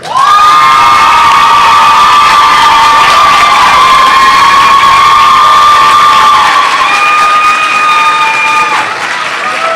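Graduation audience at a college commencement ceremony applauding and cheering loudly, a dense sustained wall of clapping with whoops and shouts that continues for the whole stretch and eases slightly near the end.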